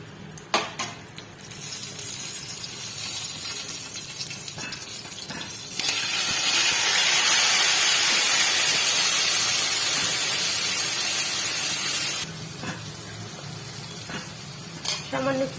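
Nigella seeds and dried chilli hit hot mustard oil in a pan, giving a loud, bright sizzle that swells mid-way and then settles, with clinks of utensil and pan around it.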